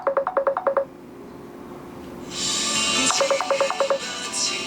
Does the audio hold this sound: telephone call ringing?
yes